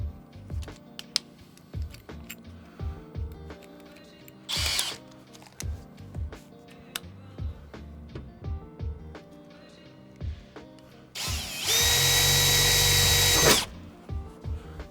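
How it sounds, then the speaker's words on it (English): Power drill with a 4mm bit boring a pilot hole in VW T5/T6 van metalwork, preceded by scattered clunks and short tool bursts, then a loud sustained whining drill run of about two seconds near the end. "I'm then going to drill a pilot hole with a"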